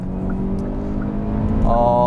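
A 2021 Hyundai Elantra with a 1.6 engine and CVT transmission revs steadily at high rpm, a loud, sustained engine drone heard from inside the car that rises slightly toward the end.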